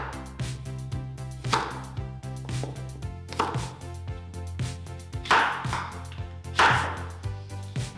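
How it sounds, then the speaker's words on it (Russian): Repeated knife chops through crisp green apples onto a cutting board, close and rhythmic, with sharp thuds every second or so. "Затем нарезаем на 4 части зеленые яблоки"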